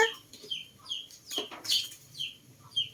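Chickens clucking nearby in short, repeated bursts, with soft background noise and a few sharper calls in between.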